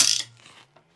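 A clamp tightening onto wood on a small library build gives a short ratcheting click followed by a few faint mechanical ticks, all close by and over within a second.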